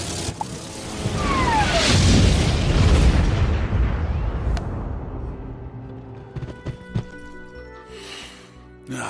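A signal rocket ignites and explodes in the Wizard101 video game, giving a long, loud rumbling boom with a whooshing rise that fades into scattered crackles and pops.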